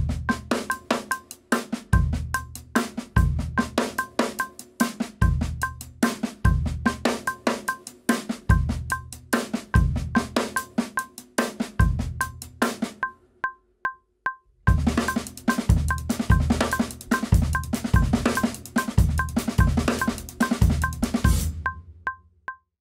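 A looped drum kit groove with snare ghost notes and a bright cowbell-like pattern, plays loud and close in repeating bars, briefly dropping out midway before resuming.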